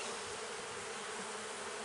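Honeybees hum in a dense, continuous buzz close by during a spring hive inspection of a small colony covering about four frames.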